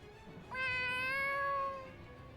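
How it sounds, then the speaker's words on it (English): A single drawn-out cat meow with a clear, tonal and slightly falling pitch, lasting over a second, heard close and alone over a low background hum. "Is that your cat?"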